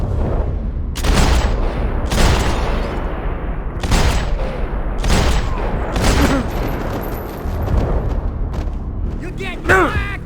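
Gunfire in the video game Max Payne 3, with repeated heavy loud shots in bursts over a dense, rumbling combat background.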